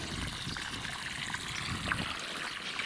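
Water trickling and flowing steadily along vineyard rows during irrigation, a continuous close-up babble and dribble with no talking over it.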